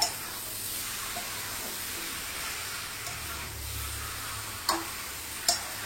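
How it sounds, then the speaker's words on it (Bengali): Pointed gourd and prawns fry in a pan with spices, a low steady sizzle with a couple of sharp clicks of a utensil against the pan near the end. "এবার ভালো করে পটলটা চিংড়ি মাছটাকে কষিয়ে নিতে হবে।"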